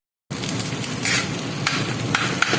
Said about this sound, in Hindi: इसको अच्छे से मिक्स करके दरमियानी आंच पर दही शामिल करेंगे